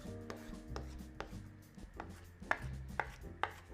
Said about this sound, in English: take some cilantro and parsley and just start chopping it up to get it thin